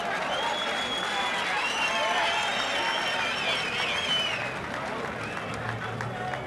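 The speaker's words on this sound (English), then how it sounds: "The crowd really appreciating the action that they heard here tonight." A boxing crowd at Martin's West applauds at the end of a main-event bout, producing a dense, steady wash of clapping and cheering while a commentator talks over it.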